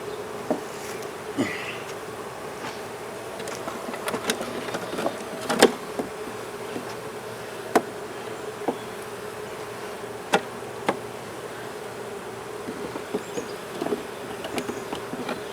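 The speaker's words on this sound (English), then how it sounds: "I can literally hear them buzzing" Steady insect buzzing from many honey bees around a hive, a dense hum with occasional louder individuals flying close past, no voices.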